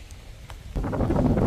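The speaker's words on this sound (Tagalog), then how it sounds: "Ah, lakas ang hangin." Strong outdoor wind buffets the microphone in a backyard vegetable garden, starting as a light rumble and turning to a loud, roaring gust halfway through.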